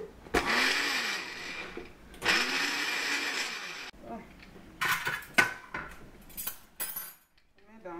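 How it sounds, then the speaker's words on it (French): A kitchen blender whirs in two short bursts as it grinds powdered spice seasoning for chicken skewers, followed by clinks of dishes and utensils being handled nearby. "Je vais passer un peu au mixeur pour avoir une meilleure texture."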